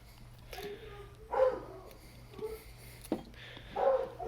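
Dogs barking at a possum outdoors, several separate sharp barks and yelps at irregular intervals, at moderate distance over a low steady hum.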